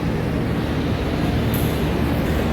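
The Taksaka passenger train at a station platform on track 5, a steady low rumble of rolling wagons, with a brief hiss or squeal about halfway through.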